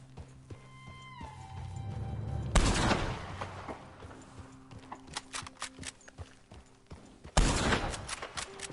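Gunfire in Red Dead Redemption 2 as a player shoots at a lock: a sharp loud shot, a clatter of smaller impacts, then a second loud blast, heard over faint horse hoofbeats and ambient tones.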